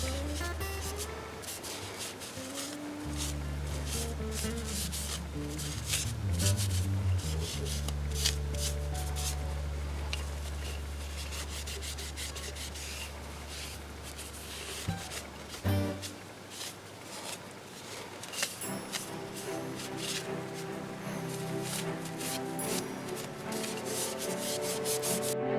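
Dirt-effect paint is rubbed onto a recycled plastic bottle with a steady, continuous scrubbing and scuffing that runs throughout, over a low background hum and tones.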